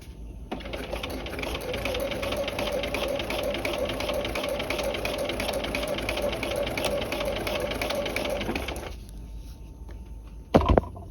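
A sewing machine stitches a tab welt pocket in one steady, close run of about eight seconds, then stops, followed by a brief clunk.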